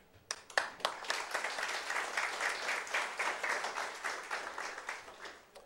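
Applause in a council chamber during a solemn session, starting with a few scattered claps then building into steady, dense clapping from a seated audience that carries on throughout.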